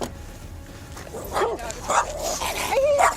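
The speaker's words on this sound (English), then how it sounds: "Get that dog away from me." A dog barks and whimpers in yips and short whines during a tense evening encounter at a lakeside campground, close and fairly loud, with voices talking over it.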